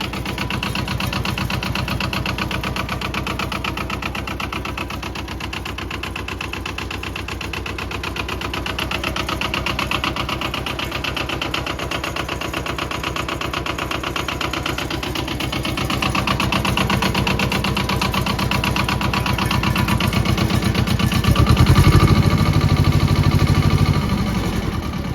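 An old engine idles steadily in a woodshed, a continuous close rumble with a fine rhythmic knock, growing slightly louder toward the end.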